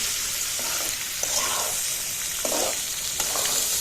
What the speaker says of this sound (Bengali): কলিজাটা মশলা সহ প্রায় কষানোটা হয়ে গেছে, ভাজা ভাজা হয়ে গেছে